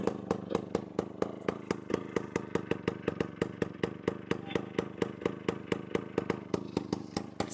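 A Bajaj Chetak scooter with a badly rusted silencer idles up close, its exhaust popping in a steady, rapid, evenly spaced beat with a rattling clatter on each pulse, loud and unbroken throughout.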